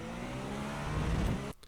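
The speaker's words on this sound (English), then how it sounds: "when I crossed over it, you can hear the traction control go do do do do do" A GTP prototype race car in the iRacing sim at Algarve drones loudly and steadily as its traction control engages while riding over a curb, then cuts off abruptly near the end.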